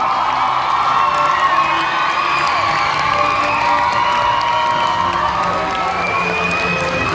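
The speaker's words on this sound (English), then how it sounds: "A round of applause." Loud, sustained crowd of cheering and shouting spectators, many young voices, at a national youth cheerleading awards ceremony, filling the whole stretch continuously with whoops and applause.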